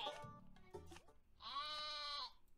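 Sheep bleating in the card game Terracards, several short bleats followed by one long wavering cry, clear and close with brief pauses between calls.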